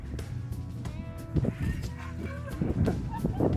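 Gulls call noisily nearby in Cancún, Mexico, harsh squawking cries repeating over a busy background of other bird voices.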